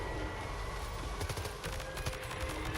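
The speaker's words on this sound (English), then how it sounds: "That big ass manta ray motherfucker just popped flares" A giant manta ray enemy in Death Stranding 2 pops flares, a dense crackling, sputtering barrage over a loud continuous roar, steady throughout with scattered sharper pops.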